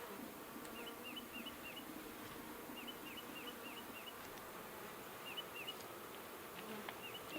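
Honeybees at an open hive make a soft, steady buzz and drone close by, with occasional bird chirps in the background.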